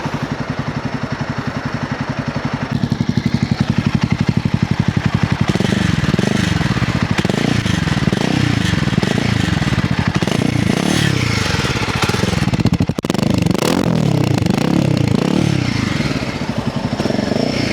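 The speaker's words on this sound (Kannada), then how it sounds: "ನಾನು ಥ್ರಾಟಲ್ ಕೊಟ್ಟಿದ್ದೀನಿ ಅಷ್ಟೇ, ಅದರಲ್ಲಿ ಆ ಸೌಂಡು" A Royal Enfield Himalayan motorcycle with a performance modification idles loud and close, then gets a light blip of throttle to roughly a tenth. The engine keeps up a steady, throbbing exhaust beat throughout, and nobody speaks.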